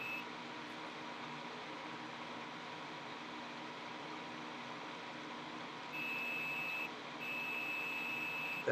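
A multimeter continuity test sounds a thin, steady tone during work on a Mac SE/30 logic board, coming in twice near the end over faint background hiss, first for about a second, then again after a short gap.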